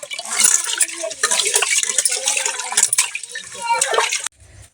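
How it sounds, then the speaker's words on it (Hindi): Rice is rinsed in water in a home kitchen while preparing pulao, with steady close splashing and swishing of water for several seconds before it stops abruptly near the end. "अच्छे से इसको हम 2-3 बार पानी में धो लेंगे"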